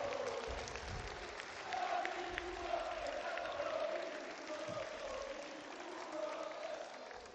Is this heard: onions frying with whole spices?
no